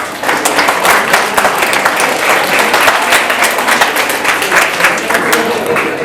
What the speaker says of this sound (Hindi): तो एटलीस्ट अपने लिए तो जोरदार तालियाँ बजा ही ले सबसे कम से कम